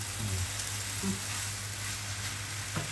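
Noodles stir-fried with mixed vegetables in just a little oil, giving a steady low sizzle throughout with faint scraping stirs now and then, no voices.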